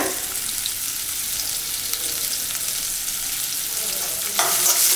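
Shallots and curry leaves sautéing in hot oil for a drumstick and field beans tamarind curry, a continuous close sizzle with stirring noise, growing briefly louder near the end, with no voices.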